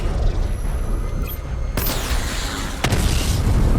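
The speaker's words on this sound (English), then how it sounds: "Destroy targets to charge up weapon energy and activate missile barrage" Missile barrage explosions in the video game Batman: Arkham Knight: two sharp blasts, the first at about the midpoint and a second one second later, each trailing into a dense rumbling roar over a constant loud game background.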